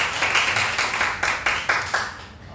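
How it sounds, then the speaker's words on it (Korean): Applause rises from a church congregation at a Sunday service, welcoming a young woman back from Canada; a few separate bursts of clapping swell and fade in a reverberant sanctuary at moderate volume. "우리 박수로 환영하겠습니다"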